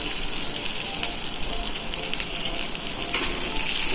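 Chopped onion sizzles in hot oil in a wok, a dense, even hiss that stays loud and close throughout without talk.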